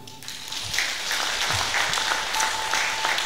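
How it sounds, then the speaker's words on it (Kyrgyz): Audience applauding at a poetry recitation: a dense, steady burst of clapping from a crowd fills the whole three seconds at an even, moderately loud level. "Кол чабуулар."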